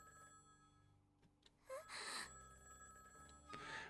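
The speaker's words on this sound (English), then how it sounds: "The sound of the telephone ringing drowned out my apologies." A telephone rings in the visual novel Higurashi, a bright electronic ring in two bursts over a steady background music drone.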